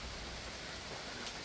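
Steady rain falling in the forest at Hulu Langat, an even, hissing wash of drops that stays quiet and continuous throughout with no talk.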